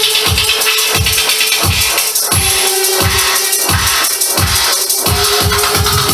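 Loud music plays through a Behringer Eurolive B612D PA speaker turned up to full volume, with a steady pulsing beat and bright, harsh upper tones from the horn but little low end.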